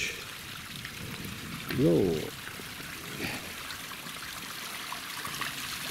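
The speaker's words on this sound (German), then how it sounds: "da plätschert schon richtig" A small stream at the Wasserkuppe in the Rhön trickles and splashes as a steady outdoor wash of water, with a brief spoken word and a short voiced sound partway through.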